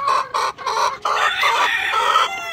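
White leghorn chickens in a laying coop cluck in quick repeated bursts, several hens calling close by with short pauses between phrases and no talking.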